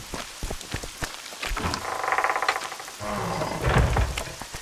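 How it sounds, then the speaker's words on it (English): Steady rain in the video game The Witcher 2 patters loudly with a dense, noisy hiss, joined by low rumbling swells that suggest distant thunder. "Raining."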